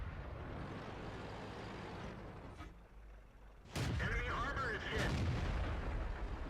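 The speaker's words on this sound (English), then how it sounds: "Rather punchy gun." A tank cannon booms twice in World of Tanks gameplay with the Excelsior tank, loud sharp blasts with rumbling tails over steady engine and track noise.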